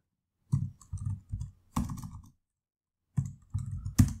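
Bursts of clattery computer keyboard typing in short rapid runs, separated by pauses, close and moderately loud with no voices.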